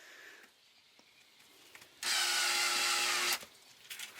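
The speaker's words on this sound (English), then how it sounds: "use the drill to do the work for you" A power drill screws plastic valves into fittings during a greenhouse setup, giving one steady whirring run of just over a second amid quieter handling noise and faint clicks.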